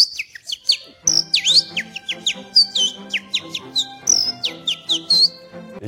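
A person whistles an imitation of a bird call: a lively run of sharp, high chirps and swooping tweets, close and clear, repeating in quick bursts.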